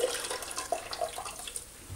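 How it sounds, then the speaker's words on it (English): Water splashes and trickles as a grout sponge is rinsed and wrung out in a bucket while grouting shower wall tile, a continuous close wet sloshing. "wring as much of the water out as you can. And just go around, kind of give everything a good wipe, rinse your sponge often"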